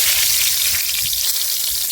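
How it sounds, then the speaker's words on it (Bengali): Bay leaf and cumin seeds tempering in hot oil in a kadai for a coriander chicken curry, giving a steady, close, continuous sizzle and crackle with no talk. "তেজপাতা জিরে ফোড়ন দিয়ে দিচ্ছি,"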